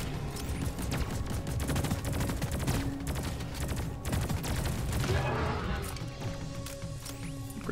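A deployed sentry turret in Deep Rock Galactic fires continuously, rapid loud automatic bursts layered with impacts and crashes throughout, dense and unbroken, with a brief swell of clatter near the end.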